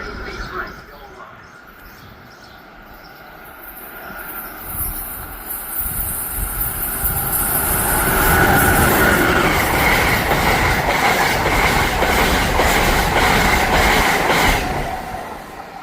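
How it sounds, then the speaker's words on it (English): An Amtrak train rolling past a station platform, rising from a distant rumble to a loud, close roar with rhythmic clacking wheels and squealing, holding steady as the cars pass; a voice is heard early on. "Train approaching. Please remain behind yellow line."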